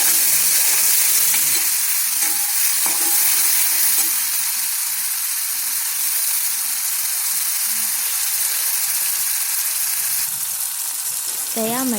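Garlic paste fries and sizzles steadily in a pan while being stirred for vada pav, a continuous close hiss with occasional scrapes and no talking.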